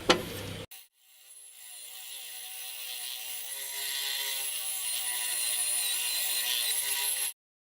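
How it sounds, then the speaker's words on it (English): A bandsaw cuts a kerf into a workpiece, its motor and blade holding a steady, close, humming whine for about six seconds after a brief knock, then stopping abruptly. "I'm now just going to cut this kerf in using the bandsaw."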